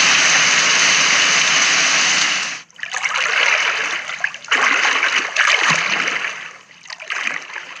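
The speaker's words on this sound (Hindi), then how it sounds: "तालाब पर होने वाली भारी वर्षा की आवाज़" Heavy rain falling on a pond, a dense steady hiss of drops on the water surface, loud and close, broken by a brief dip then continuing in uneven swells.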